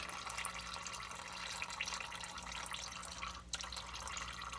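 Engine oil drains from a raised overland vehicle during an oil change, a faint, steady trickling stream that is quiet and continuous throughout, with no talking.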